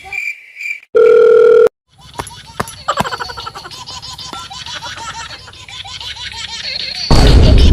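A steady electronic phone ringback tone sounds for about a second after a brief earlier beep, followed by background chatter and noise.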